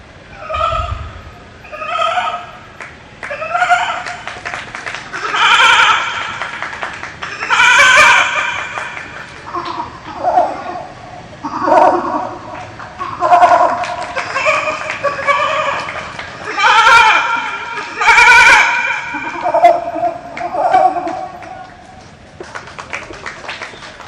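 A voice mimics a flock of goats, giving a series of loud, close bleats in turn for a young kid, a billy goat and a mother goat, with brief pauses between calls.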